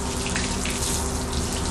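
Water floods over a car's surface during washing, a loud, dense rushing and spattering that stays constant throughout, close to the hose and free of speech.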